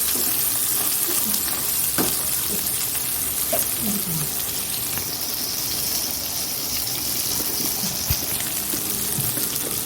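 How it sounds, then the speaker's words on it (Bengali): Poppy seeds fry in hot oil with black cumin and dried chillies, a continuous close sizzle with occasional light stirring clinks and scrapes throughout. "কালো জিরে ফোড়ন দিয়েছি আর শুকনো লঙ্কা ফোড়ন দিয়ে এই পোস্তগুলো ভেজে নিচ্ছি"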